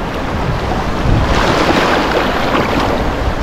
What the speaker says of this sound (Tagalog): Grabe oh, ang lakas ng mga alon doon oh